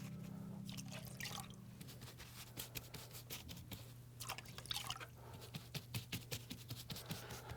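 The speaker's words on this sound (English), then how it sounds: "You can also let it drip down." Water dripping and trickling down a plaster wall while it is being glazed, heard as a run of soft, irregular drips and wet patters close by, with no talking.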